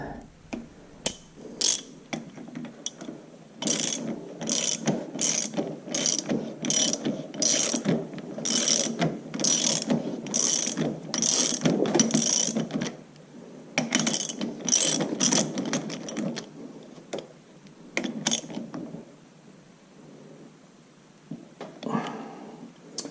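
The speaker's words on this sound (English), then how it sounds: "start the nut. Using a 7/8 inch socket." A ratchet with a 7/8 inch socket tightens a nut on the governor gear of an IHC Farmall Super MTA tractor, with bursts of quick, close clicking strokes separated by pauses.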